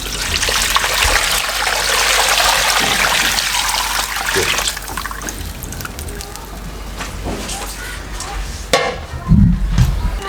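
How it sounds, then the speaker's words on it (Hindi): Roughly 4 kg of water poured into a cooking pot while making mutton mandi, a loud, steady splashing pour filling most of the first half, then quieter clatter with a few brief knocks near the end. "और ये इसके अंदर डाल दें 4 किलो पानी।"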